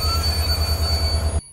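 A train rumbles close by with a steady low roar and faint metallic squeal, then the sound cuts off abruptly.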